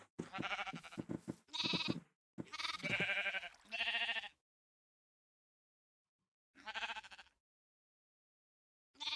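Sheep bleating in the video game Minecraft, a run of loud, close, wavering bleats over the first four seconds, then silence, then one more bleat and the start of another.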